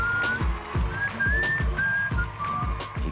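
A man on stage whistles a repeated short melodic tune alone, loud and close, with steady rhythmic thumps beneath each phrase.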